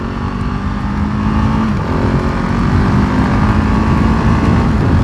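A KTM 690 Enduro R single-cylinder motorcycle engine drones loud and close while riding, a rough, raucous steady growl with a brief dip and rise in revs midway, wind rushing underneath.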